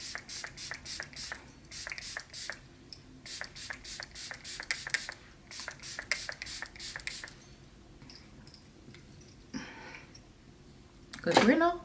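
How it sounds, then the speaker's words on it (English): Rapid bursts of hissing spray from a makeup setting spray misted onto a face, several quick pumps in a row, then a pause and a few more, close up with quiet rustling afterward. "set my face with the Juvias Place setting spray"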